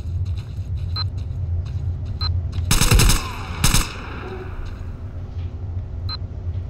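Two short, loud bursts of machine gun fire ring out in the middle of S.T.A.L.K.E.R.: Call of Chernobyl, set against a steady low ambient rumble with faint clicks and no talking.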